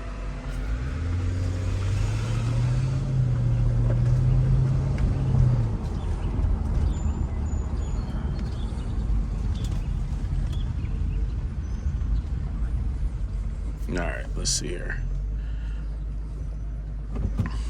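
Mercedes-Benz SL500 on new Neomax coilovers driving along, a steady loud road and engine rumble throughout, with someone speaking briefly at the start.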